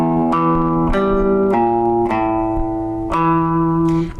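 An electric guitar slowly plays a riff, sustained notes each struck clearly and left ringing before the next, the phrase repeating at an unhurried pace.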